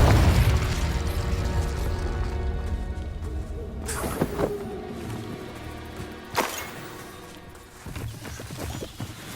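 Confringo blast spells exploding in Hogwarts Legacy: a rumbling start, then two sharp booming bursts several seconds apart, each trailing into a ringing decay over a busy game background.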